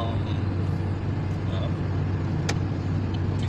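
A car drives along a road with a steady low engine and tyre rumble heard from inside. Voices talk over it and a brief click comes partway through.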